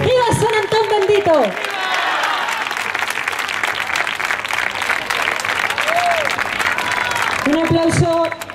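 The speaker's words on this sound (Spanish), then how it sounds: "Un aplauso a este hombre que lo está haciendo todo lo bien que es capaz" Audience applause and cheering for a man performing with a horse at a San Antón festival celebration, a loud sustained crowd clapping throughout with a voice speaking briefly over it at the start and end.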